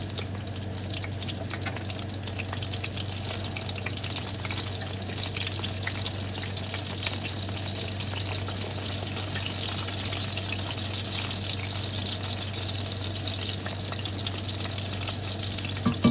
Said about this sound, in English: That's that Tennessee fried sausage